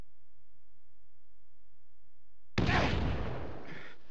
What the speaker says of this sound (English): Press the A button to throw the grenade